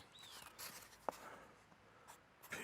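Pen scratching briefly on small plant labels in a spring garden, a few faint close strokes with one sharp tap, quiet outdoor background and no talk.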